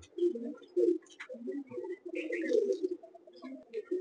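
Malwai pigeons, one of them molting, coo close by in low, throaty, repeated phrases with short gaps, with a few faint higher chirps above.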